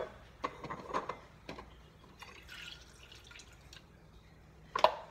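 Celery juice dripping from a juicer into a container, a few faint scattered drips and small splashes at close range, with a slightly louder drip near the end and no talking.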